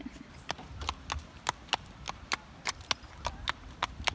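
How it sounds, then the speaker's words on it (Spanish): A horse walks with steady, crisp clip-clopping hooves, the sharp evenly spaced strikes sounding close and clear over a faint outdoor background. "Qué ruido está haciendo el caballo."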